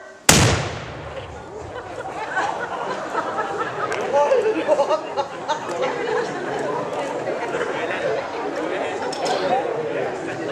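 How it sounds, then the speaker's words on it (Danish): A ceremonial salute cannon fires a single loud shot near the start during an anniversary celebration at a hotel, followed by crowd chatter and ambient noise that continue under the lingering echo. "Skud kommer. Fyr!"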